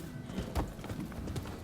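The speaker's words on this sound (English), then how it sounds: "Y'all don't want to get train wrecked by this... trucked by this horse." A horse's hooves clip-clop at a gallop in the samurai action game Rise of the Ronin, a quick run of hoofbeats under faint background sound and a brief whinny-like tone.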